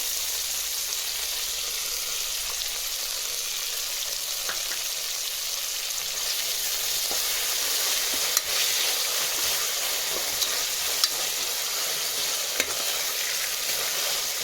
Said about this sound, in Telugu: శొంఠి వెల్లుల్లి పేస్ట్ పచ్చి స్మెల్ పోయేంత వరకు ఫ్రై చేసుకుంటాము